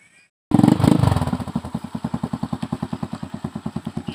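After a brief quiet moment, a motorcycle loaded with tiger grass flowers starts up close and loud, then settles into a fast, steady chugging putter.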